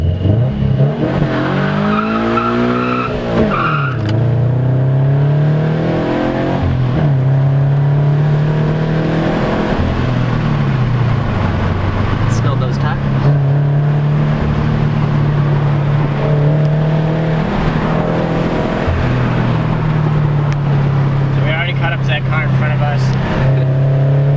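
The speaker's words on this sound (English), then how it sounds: "We're just going to gun it, get up to about 40, and then we're going to take a couple corners" A Subaru BRZ running on E85 fuel pulls hard under acceleration, its engine note climbing steadily through the gears with short dips at each shift, loud and close from inside the car.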